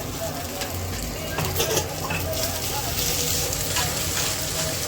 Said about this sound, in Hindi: तो मतलब मैं राइस को डालूंगी, इसमें मसाला मैंने मिक्स कर दिया।